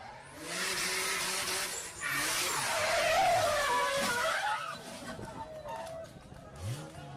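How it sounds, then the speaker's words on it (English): A race car spins out and slams into the wall, with loud squealing tires skidding and engine roar close by. The sound is long and sweeping and fades into further tire noise, with commentary talk faintly under it. "Pete Barber looped that baby and smacked the wall hard."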